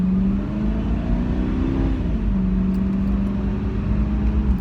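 Engine of a 1995 Ford Mustang GT SN95 convertible pulling away under light throttle, a steady close low drone whose pitch rises briefly then settles, with no talking.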